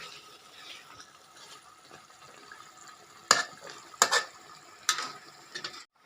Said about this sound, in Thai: ก็ต้องคนสักหน่อยนะครับกับปลาดุกครับผม